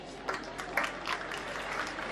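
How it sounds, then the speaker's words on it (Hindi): Faint applause from a poetry gathering audience, a scattered patter of clapping heard from a distance, steady through the short stretch. "एक बार मुझे जोरदार तालियों से आदेशित करें"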